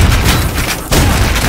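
A shotgun fires in the retro first-person shooter Ion Fury, heavy booming blasts in quick succession with a brief gap, loud and close with no voices.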